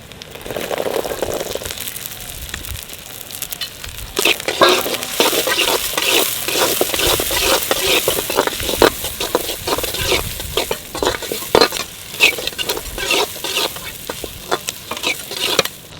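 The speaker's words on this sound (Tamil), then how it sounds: "அடுத்தது சின்ன வெங்காயம் சேர்த்துக்க போகிறோம்." Shallots frying in hot oil for a Kerala-style fish fry, with a steady close sizzle broken by repeated scraping and clattering stirs of a utensil against the pan, loud and continuous throughout.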